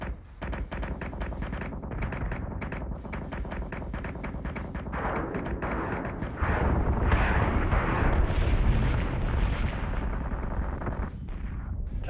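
Warship secondary batteries fire in full attack mode in the Battlestar Galactica Deadlock space game, a dense barrage of rapid booming shots that swells into a heavier, louder roar of overlapping blasts near the middle before easing slightly.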